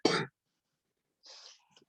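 A single sharp cough bursts out, followed after a pause by a softer, breathy second cough or throat clearing.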